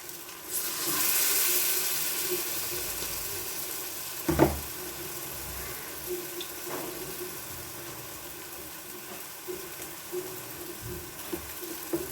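Banana fritters (pazhampori) fry in hot oil with a continuous close sizzle, joined by a few brief clanks and scrapes of a utensil in the pan.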